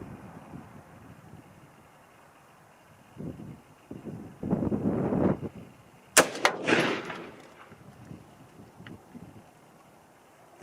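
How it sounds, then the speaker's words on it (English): A 6.5 Grendel rifle fires a single sharp shot at a target outdoors, the crack standing out against wind noise and quieter rustling, followed by a brief fading echo. "I'm going to be shooting the lower target on the right."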